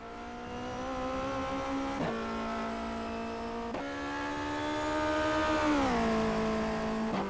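A Formula 2 single-seater in rFactor 2 howls at full throttle, its engine note climbing steadily through the gears with brief dips at each upshift, loud and continuous with no talking.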